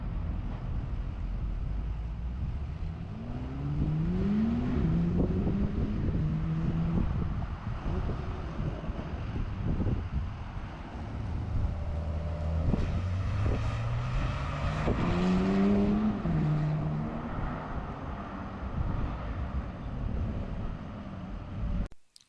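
A Porsche 911 on a track-day course at Barber Motorsport Park in Alabama accelerates between cones and brakes hard, its engine note repeatedly climbing and dropping under constant wind buffeting.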